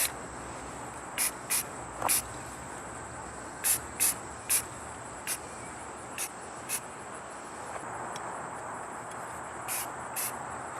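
Short bursts of aerosol spray paint hiss in a repeated rhythm while a rifle is coated, each spray lasting about a second with pauses between, over a steady quiet background and no talking.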